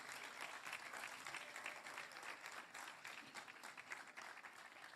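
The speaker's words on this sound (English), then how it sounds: "Let's all stand up and clap for her." Sustained applause from a standing audience at a climate justice symposium, dense steady clapping filling the room for the full stretch, moderately distant with no voices on top.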